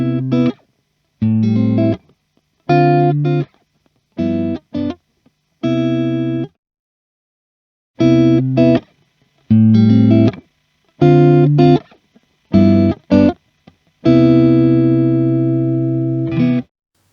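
An electric guitar runs through an Origin Effects Revival Drive Compact overdrive pedal set fully dry as a wide-range clean booster, playing about ten separate ringing chords or notes, each cut off by short silences.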